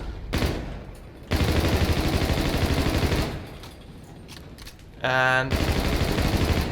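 Rapid SMG fire in Call of Duty: Infinite Warfare, loud sustained bursts that stop, drop to quieter background for a few seconds, then resume hard, with a brief tonal game cue and a single spoken word.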